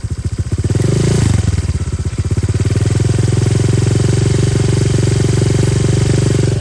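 A modified Honda Vario 150 scooter with an aftermarket exhaust idles close by, a steady low burble with a brief rev blip near the start, then settling back into an even, throbbing idle.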